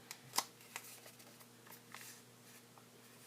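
Origami paper is folded and creased for a Halloween candy box, giving soft, close crinkles and faint scraping taps in a quiet room, with one sharper crackle near the start.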